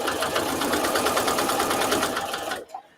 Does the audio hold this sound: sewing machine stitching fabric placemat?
yes